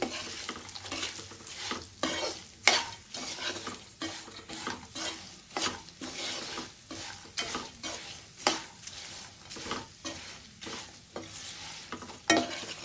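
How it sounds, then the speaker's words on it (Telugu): Peanuts, coconut and cashews frying for a flattened-rice poha mixture, close crackling sizzle with repeated rhythmic spoon scrapes and clinks against the pan throughout, no one speaking. "మనం వేపుకున్న పల్లీలు కొబ్బరి కూడా వేసి కలుపుకుందాం. జీడిపప్పు ఇవన్నీ వేసి కలుపుకోవాలి."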